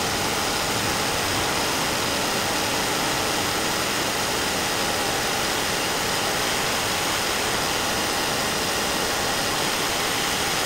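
A Mercedes GLC43 with the M276 engine runs steadily during intake valve cleaning, giving a dense, even, close roar with a hissing edge that holds unchanged throughout, with no speech.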